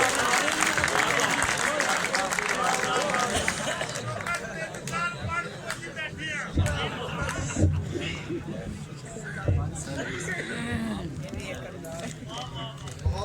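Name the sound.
audience applause at a Punjabi mushaira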